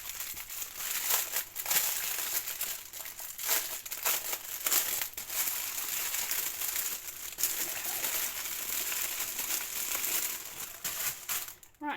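Plastic Ziploc bags holding diamond painting drills crinkle and rustle up close, in irregular bursts of crackling handling that last the whole stretch with no talk.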